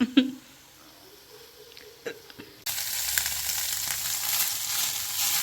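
Goat brain frying in a pan and being stirred continuously, a brief quiet stretch with scattered clinks, then a steady loud broadband sizzle that holds to the end.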